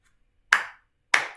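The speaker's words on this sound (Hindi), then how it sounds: "तालियां, ठीक है।" Two sharp, separate hand claps, loud and close, spaced about half a second apart in otherwise near silence.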